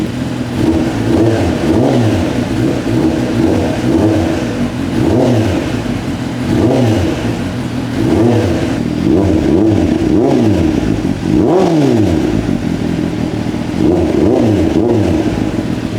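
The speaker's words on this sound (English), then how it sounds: "When you rev it, it screams." A Kawasaki ZX10R fitted with a Leo Vince exhaust revs while standing still, with repeated rising and falling throttle blips over a loud, steady engine idle and no talk.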